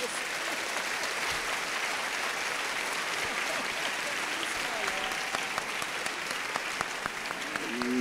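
Sustained applause from a large audience at a school's 50th anniversary celebration, steady and dense throughout, with faint voices and a few tonal calls rising near the end.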